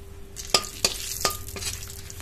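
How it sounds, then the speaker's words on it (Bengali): Bay leaf and nigella seeds sizzle in hot oil in a kadai, a steady close frying hiss broken by a few sharp spatula scrapes and stirs. "এর মধ্যে আর অল্প পরিমাণে তেল দেব। তেজপাতা, কালো জিরে দেব"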